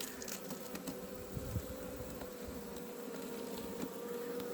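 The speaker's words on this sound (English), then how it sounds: "Look at the bees." A honeybee hive open with a queen excluder and newspaper, bees buzzing loudly and steadily nearby as a continuous drone.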